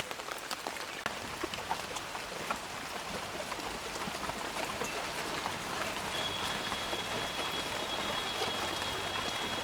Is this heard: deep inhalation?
no